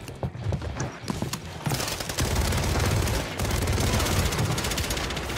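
Rapid gunfire in the shooter Warzone 3 during a close squad fight, with dense overlapping bursts and volleys that stay loud and nearly continuous throughout.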